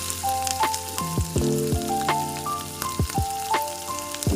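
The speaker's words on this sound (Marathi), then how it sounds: "लसूण लालसर होईपर्यंत भाजून घेऊयात" Garlic and cumin frying in four spoons of oil in a kadai, with a close crackling sizzle, sharp popping spatters and occasional stirring clinks.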